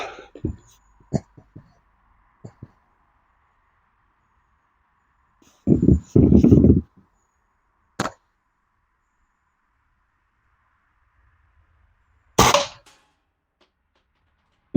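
Gamo Speedster .22 caliber air rifle firing at a target 75 feet away, a few sharp isolated cracks and snaps separated by long near-silent gaps, with one longer burst of noise in the middle.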